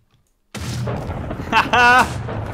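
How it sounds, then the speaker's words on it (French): A cannon fires in a modded Minecraft survival game: an abrupt loud broadband boom bursts in after half a second of silence and sustains, with a brief tonal, voice-like swell near the end. "ça marche ou pas le canon"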